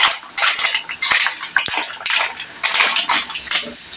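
A lid clatters onto a pan of shrimp and mussels cooking for a sweet and spicy seafood dish. Several sharp metallic knocks and scrapes come close and fairly loud over a faint background hiss.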